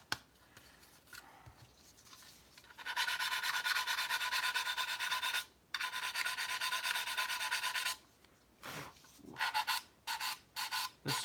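Sustained rasping strokes of a sanding stick on a scale model, a long continuous stretch followed by shorter bursts of scraping, close and fairly loud.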